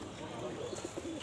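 Pigeons coo faintly at a duck, chicken and pigeon market in Nagarpur, Tangail, with a few soft, low, rounded calls rising over a murmur of background crowd noise.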